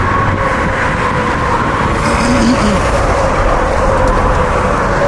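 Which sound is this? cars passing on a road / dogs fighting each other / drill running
cars passing on a road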